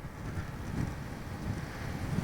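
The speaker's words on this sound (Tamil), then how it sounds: "ஓ, காற்றடிக்குது காய்ஸ்." Wind gusts buffet a microphone outdoors on a ride, giving a steady low rumbling roar that swells and dips in soft pulses, with no talking.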